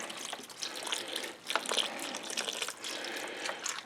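Beef broth pours from a freshly opened container into a cooking pot, a close, gushing liquid stream with slight fluctuations and small splashes, steady throughout with no talking.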